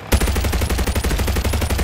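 Rapid ship-mounted gunfire in the Spider-Man VR game, a continuous close, loud burst of evenly spaced shots with no pauses.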